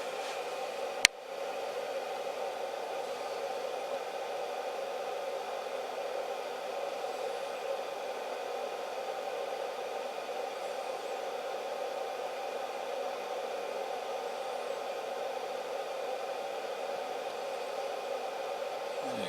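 A small electric motor powered by a graphene supercapacitor gives a steady, even whirring hiss that runs unbroken for about twenty seconds, after a single sharp click near the start.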